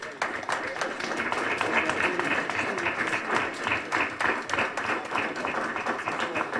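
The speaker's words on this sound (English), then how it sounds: "We would now like to thank our presenters as well, who, give them a round of applause again." A forum audience gives its presenters sustained applause, dense overlapping hand claps that stay steady and fairly loud throughout with no talk over them.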